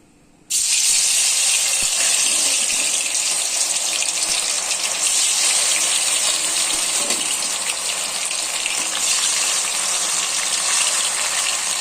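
Raw banana pieces for banana 65 deep-fry in hot oil in a pan, starting with a sudden loud hiss that turns into a dense, continuous bubbling sizzle close by.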